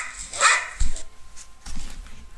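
Biscuit, a puppy playing on a beach, gives a few short, sharp barks close by, spaced over a couple of seconds.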